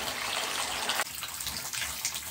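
Water pours from a bath tap in an old house fed by a loft cold water tank, a loud, steady rushing gush that shifts character partway through as the flow begins to ease.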